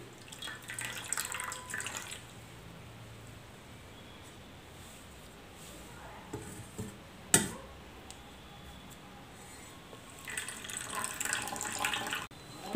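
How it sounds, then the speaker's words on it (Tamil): Crab soup strained through a cloth makes a soft, wet trickling and dripping, strongest at the start and end, with a brief sharp knock midway; no voices. "சூப் வந்து நல்லா ஃபில்டர் பண்ணிக்கலாம்."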